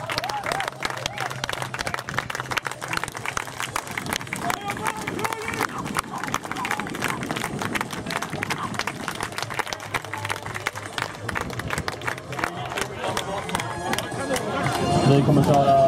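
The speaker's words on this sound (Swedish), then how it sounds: "Härliga applåder på våra hajar." Crowd applause for the Göteborg Hajarna baseball team at a home double header, steady dense clapping and cheering throughout, swelling louder near the end with a voice heard over it.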